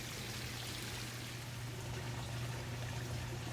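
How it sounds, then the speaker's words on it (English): A garden pond waterfall, driven by a pump, runs with a steady, even rush and splash of falling water that fills the whole moment without pause. "you can take your remote for your pump and light up your waterfall"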